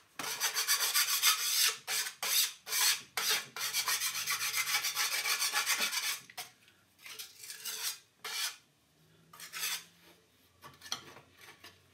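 Metal scraping on a 2008 Club Car DS gas golf cart crankcase with a blown gasket, a harsh rasping of tool on metal in quick close strokes, steady at first and then in shorter, sparser bursts.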